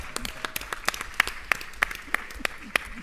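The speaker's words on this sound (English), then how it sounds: "we can clap for that" A small audience at an immigration rights organizing event claps, the sharp distinct claps landing in a fairly steady rhythm. The sound is moderately loud and close, with a faint murmur underneath.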